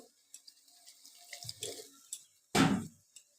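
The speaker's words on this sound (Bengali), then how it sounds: "আর একটুখানি জল দেবো" Water is added to a wok of cooking greens and potatoes, heard as a short, sudden splash after a few quiet clinks and small kitchen noises.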